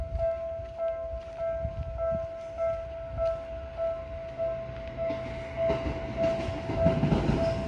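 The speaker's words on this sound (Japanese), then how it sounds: "武蔵境方面の電車が今通り過ぎていきました。" A Keio line train passes a level crossing, heading toward Musashisakai. Wheels rumble and clatter over the rails while a steady crossing-bell tone rings throughout, and the train noise swells toward the end.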